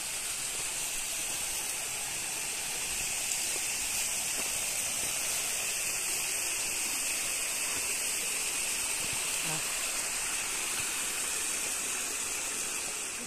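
Water from a mountain stream rushes steadily in spring high on an alpine slope, a constant broad hiss and gurgle heard fairly close and unbroken throughout, with no voices.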